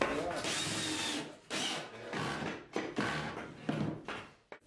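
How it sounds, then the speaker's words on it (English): A power drill drives screws through braces into a wooden summerhouse frame in several short whirring bursts, each spinning up and stopping, heard close and loud. "once I slotted the braces in, I screwed it to the frame."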